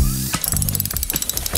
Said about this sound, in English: That's it! Tilly's winch! It's just like your fishing rod, Grandma, only much bigger!